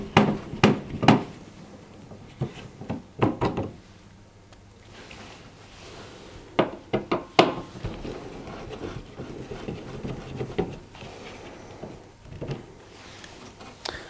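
Screws are undone from the plastic heater cover at the back of a tumble dryer, producing scattered sharp clicks and knocks up close, in short clusters separated by quieter gaps.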